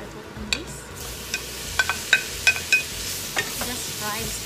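A pan of ingredients for korv stroganoff frying in a home kitchen, with a soft steady sizzle under a series of sharp scrapes and clinks as the pan is stirred, no talking.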